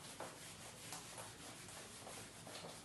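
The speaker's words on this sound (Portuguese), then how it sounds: "Vou apagar." An eraser wiped across a classroom board during a calculus lesson gives a close, continuous rubbing sound in rhythmic back-and-forth strokes.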